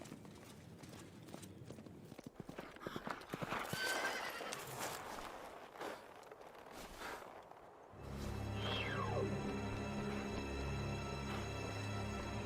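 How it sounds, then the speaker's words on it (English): A white horse in a Legend of Zelda game neighs and gallops, with rapid clip-clop hoofbeats and a whinny amid busy game effects, then a sustained musical or ambient drone with a falling sweep takes over. "You must have seen that white horse gallop past just now."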